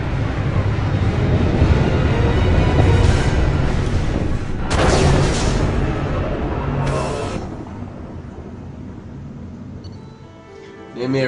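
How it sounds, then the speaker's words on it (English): Facility explosion in Mass Effect 2: a loud, sustained rumbling roar with heavy low booms and bursts of debris noise that gradually fades toward the end. "A giant explosion in the facility."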